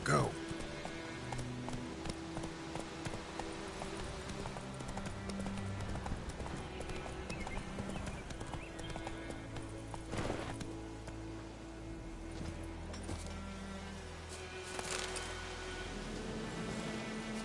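Roach the horse gallops in The Witcher 3, a steady clip-clop of hooves running on and on beneath game music and a person talking.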